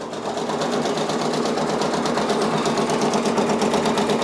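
A Brother Persona PRS 100 embroidery machine stitches out a design with a steady, fast, continuous mechanical whir and rapid needle chatter, loud and close, running alone throughout.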